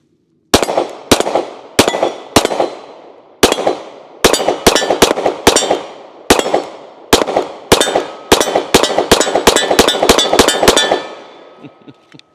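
Sharp, loud pistol gunshots from a 365 pistol fire outdoors, around twenty rounds in uneven bursts with short ringing decays, a quick string near the end, no talking.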